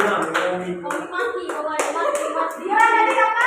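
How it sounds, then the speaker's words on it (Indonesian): A class of students claps hands in a quick, rhythmic pattern of sharp, close claps while young voices talk and call out over them. "Tepuk tangan dulu untuk kami."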